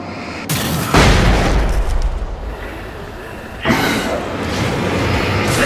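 Heavy booms from a horror action video game, Alan Wake DLC, with a loud blast near the start and a second burst later, rumbling under background game noise.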